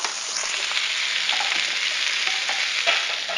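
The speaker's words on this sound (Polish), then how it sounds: "I dusimy dalej" Mushrooms stew in a frying pan for scrambled eggs, giving a close, steady hiss and crackle of sizzling with faint light spits throughout.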